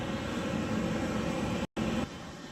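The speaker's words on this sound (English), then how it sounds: "Lieutenant DiGennaro taxis the plane into a parking spot and turns it back over to the plane captain." A jet aircraft taxis on the flight deck of the aircraft carrier USS Ronald Reagan, a loud, steady broadband engine roar that cuts out briefly, then returns slightly quieter, with no voices.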